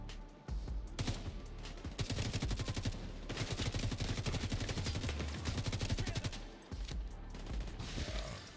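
Rapid bursts of gunfire from a small gun in the video game XDefiant, loud and nearly continuous with brief pauses, set against dense in-game battle noise.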